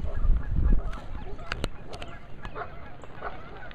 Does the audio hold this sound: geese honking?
yes